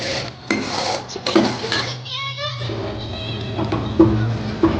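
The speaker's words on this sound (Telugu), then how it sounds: "ఇలా చక్కగా ఒక గరిటతో కలుపుతూ ఉండండి అడుగంటకుండా ఉంటుంది" A ladle scrapes and clinks against a metal pot while stirring ghee as it is made, with a few sharp taps and some faint background voices.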